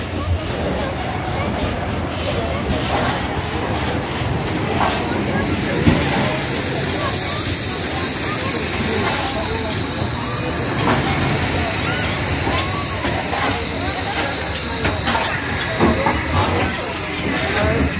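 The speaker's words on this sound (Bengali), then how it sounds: "এখন ইঞ্জিনটা সামনের দিকে এগিয়ে গিয়ে ব্যাকে এসে আবার ট্রেনের সাথে অ্যাটাচ হয়ে চলে যাবে লেক সাইড স্টেশনে" A heritage steam locomotive at Haverthwaite railway station, uncoupled to run ahead and reverse back onto its train bound for Lakeside, gives off a loud, continuous steam hiss over low rumbling and faint clanks, with people talking through it.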